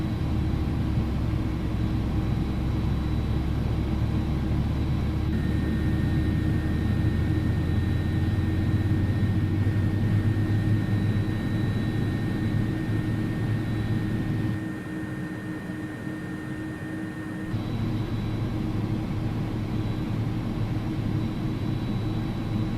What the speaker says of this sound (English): Engine number 1 coming up.